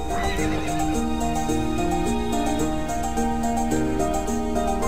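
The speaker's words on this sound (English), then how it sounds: "I wonder if Neil got off that horse yet." In the video game To The Moon, a horse whinnies sharply at the start, then steady music carries on with a faint rhythmic clatter beneath it.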